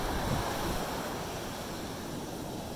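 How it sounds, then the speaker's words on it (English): Ocean waves break on a beach in a steady, close, full roar of surf with wind buffeting the microphone throughout and no voices. "The waves were a lot bigger than earlier, so that's why we're running away from them."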